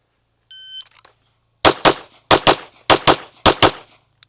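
A shot-timer beep, then a practical shooting drill with a handgun: five quick pairs of sharp, close gunshots in a steady rhythm.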